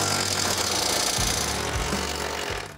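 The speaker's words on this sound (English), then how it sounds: "First thing is to remove the factory bumper bolts." A power tool removes the factory bumper bolts from a stock Ford F-350 work truck, making a loud, steady whirring buzz with a few brief pulses and thumps before winding down at the end.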